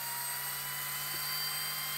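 A cordless battery drill's motor running on a somewhat flat 12-volt battery during repair testing, giving a steady high-pitched whine with a constant hum and no change in speed across the short stretch.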